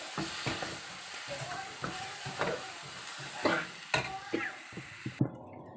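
A spoon stirs freshly ground coconut into a simmering chickpea gravy in a pan, giving irregular scraping strokes and light clinks over a soft, steady sizzle, close and moderately loud with no voices.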